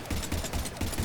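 Rapid, steady gunfire from the sci-fi shooter Mass Effect 3 in a battle on Earth in Vancouver, a continuous rattling string of shots at moderate loudness with no talk over it.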